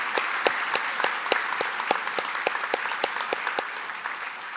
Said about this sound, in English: how about a round of applause for all of our local elected officials?